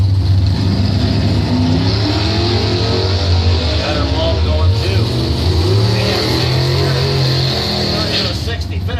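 At a drag strip, an 83 Spirit and a 69 El Camino rumble and rev loudly at the line, engine noise continuous throughout, while an announcer talks over the public address.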